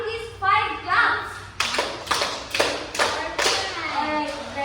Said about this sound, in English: So let's give Amity's 5 claps.